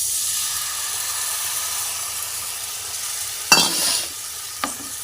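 Turmeric and chili paste poured into a hot oiled pan, a soft steady sizzle broken by a sudden loud hissing burst as it hits, then a brief stirring scrape.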